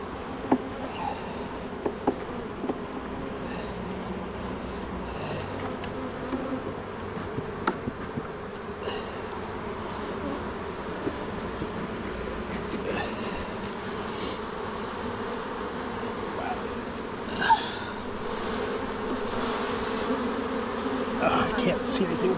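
Honey bees buzz continuously around an open beehive during an inspection, a dense, fairly close hum with individual bees droning past, and occasional soft clicks and handling noises of frames.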